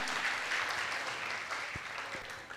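Applause from an audience at a Jain monk's religious discourse, a dense wash of clapping that carries steadily through to the end with no break.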